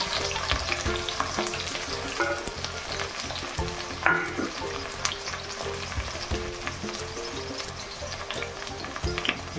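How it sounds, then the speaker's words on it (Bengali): A large onion frying in hot oil for jackfruit curry sizzles steadily and densely throughout, with occasional stirring scrapes and a single clink, close and continuous. "দিয়ে দিলাম পেঁয়াজ, বড় একটা সাইজের পেঁয়াজ দিয়ে দিলাম।"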